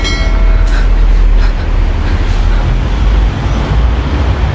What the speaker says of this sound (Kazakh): Мұнда біз метродамыз, метролар сәл ескілеу екен.